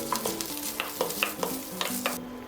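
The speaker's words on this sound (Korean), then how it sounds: "햄을 볶아줍니다." Ham stir-fried in a pan, a continuous close sizzle broken by repeated scraping and tapping strokes of a spatula at an uneven rhythm, with no voices.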